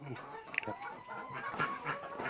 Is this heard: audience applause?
no